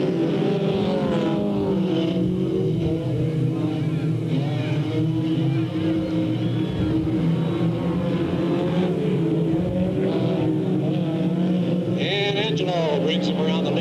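Mini stock race cars taking the green flag at Delta Speedway, a thick roar of many engines droning and revving together, with a race announcer talking over it throughout.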